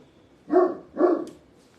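Two close, loud dog barks about half a second apart, followed by quiet.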